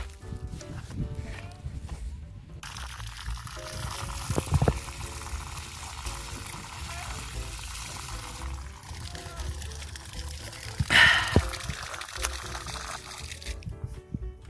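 Fresh groundwater splashes and trickles as it is poured for drinking in a farm field, with footsteps and people talking nearby; a brief louder gush comes near the end.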